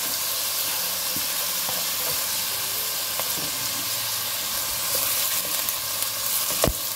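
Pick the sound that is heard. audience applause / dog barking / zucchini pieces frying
zucchini pieces frying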